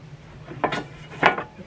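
Metal grill pan from a Ninja Foodi extra large grill being handled and set into a CheFavor grill and air fryer combo, two close metallic clunks with light scraping.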